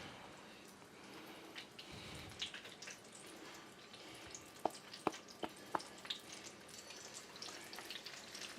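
Catfish and whiting nuggets, dropped one at a time into reused filtered oil, fry with a soft continuous sizzle, while a few sharp pops and crackles stand out near the middle; fairly quiet and close.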